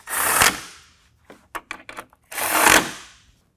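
Bolts being reattached with a pinion on a 2022 Ford Bronco during a headlight install: two loud, sharp bursts of power-tool noise bracket a run of brief clicks and taps, with no talking.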